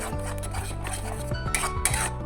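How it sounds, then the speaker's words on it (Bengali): A spoon scrapes and clinks against a pan over low flame while spices are stirred into whipped yogurt, a close run of irregular metallic taps and rubbing strokes. "এরপরে লো ফ্লেমে ভালো করে মশলার সাথে ফাটানো দইটাকে কষবো"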